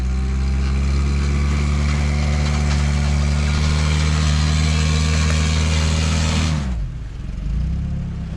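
A tracked recovery truck crawls in 4 low on a logging trail, its engine droning loud and close with a steady low hum, then dropping in pitch near the end as it eases off before settling again.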